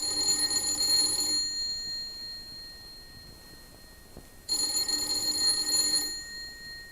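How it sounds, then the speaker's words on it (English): An electric doorbell at an apartment door rings in two sustained, bright bursts separated by a few seconds of quiet, each ring steady and fairly close. "Let's begin this tale with the ringing of a doorbell."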